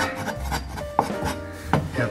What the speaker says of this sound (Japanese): 一応これを切っていきます 一応包丁は四角い包丁で